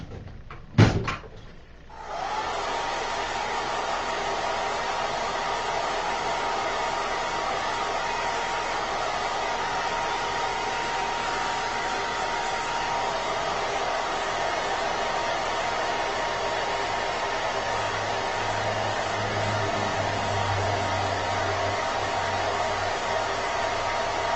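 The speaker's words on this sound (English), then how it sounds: "I'm going to dry my surface just a little bit so that it's dry" A hair dryer blows steadily to dry a chalk paint project, switching on after a brief clatter and then holding a loud, continuous whooshing roar close by for the rest of the time.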